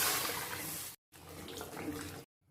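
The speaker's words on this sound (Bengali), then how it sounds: "3 কাপ জল দেবো।" Three cups of water are poured into a vegetable curry in a pot, two close splashing pours separated by a brief silence, each a steady rushing gush ending abruptly.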